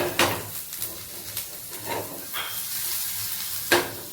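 Crackling sizzle of ginger pieces frying in hot oil, with a few clinks and scrapes of a utensil against the pan.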